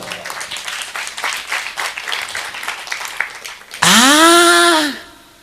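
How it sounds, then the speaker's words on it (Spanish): A church congregation at the Iglesia del Nazareno in Tomaycuri claps loudly for nearly four seconds, then a loud sweeping electronic tone cuts in and fades out. "Un fuerte aplauso a Dios Todopoderoso."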